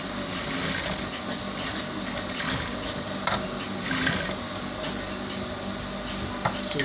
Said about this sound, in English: So I'm taking this to the back and I'm sewing a straight line.